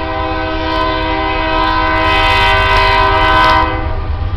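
A loud train rolls past close by, a steady heavy rumble with tonal horn-like drones swelling slightly toward the end.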